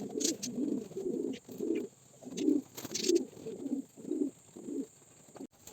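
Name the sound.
pigeons cooing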